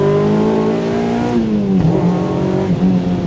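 A Mazda MX-5 NC four-cylinder with a loud aftermarket exhaust and retune roars close by, its pitch sliding down steadily as it comes off throttle, then holding a deep, burbling drone.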